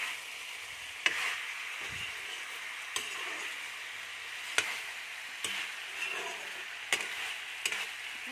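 Chopped tomatoes fry in a pan with very little oil, just starting to stick, giving a constant close sizzle punctuated by periodic scraping clicks of stirring.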